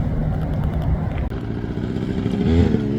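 A Suzuki TS400 Apache motorcycle is ridden with its clutch held, giving a close, steady engine rumble with a brief clatter midway and a revving swell near the end.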